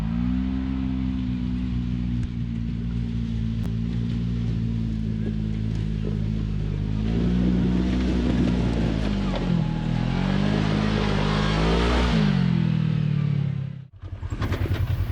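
An off-road machine's engine drones steadily and loudly on a steep, muddy trail slope as the vehicle slides with its brakes on, the pitch rising and wavering before cutting off abruptly near the end.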